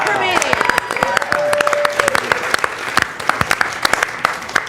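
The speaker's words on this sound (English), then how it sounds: "Clap for me." An audience breaks into applause at a live show, a burst of many hands clapping nearby with whoops mixed in, thinning to scattered claps toward the end.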